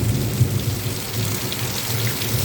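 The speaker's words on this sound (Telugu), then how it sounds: "వర్షం అయితే భలేగా కొడుతుంది" Heavy rain pours down steadily in a dense hiss, with a low rumble of thunder rolling underneath throughout.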